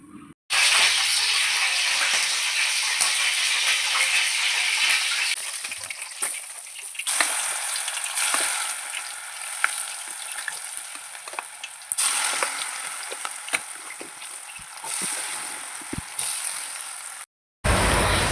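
Large-cut onions and flour-coated pieces fry in hot oil with a loud, steady sizzle that crackles and hisses without a break, then cuts off briefly near the end.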